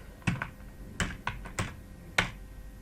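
Someone types an email address on a computer keyboard: about five separate, crisp key clicks at an uneven pace, close by and clear against a quiet background.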